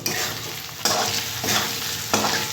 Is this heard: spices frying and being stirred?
yes